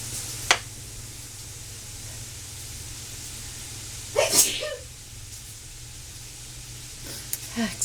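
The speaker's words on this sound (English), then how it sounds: "that Cajun seasoning's making me want to sneeze" A person sneezes while cooking smothered chicken indoors with Cajun seasoning, one sharp sneeze midway through a quiet, hissing kitchen background, with short faint sounds before and near the end.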